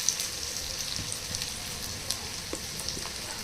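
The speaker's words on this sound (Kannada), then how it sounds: "ಈರುಳ್ಳಿ ಮತ್ತು ಬೆಳ್ಳುಳ್ಳಿ ಕೆಂಪಗಾಗೋವರೆಗೂ ಫ್ರೈ ಮಾಡ್ಕೋಬೇಕು" Onion and garlic frying in a pan for a sprouted horse gram sambar, a steady close sizzle and crackle with small stirring ticks throughout, no voices.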